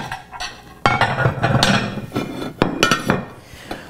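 Ceramic Temp-tations floral lace dinner plates clink and knock together as they come out of packing, giving a series of sharp, close, uneven clatters with no talking.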